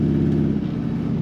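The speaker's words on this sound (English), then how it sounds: "The side pipes sounding very nice." A 1975 Chevrolet Corvette coupe with side pipe exhaust rumbles steadily while driving, a low, even burble close by with no talk over it.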